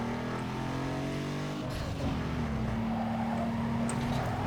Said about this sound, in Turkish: Bu araba bak güzel kayıyor.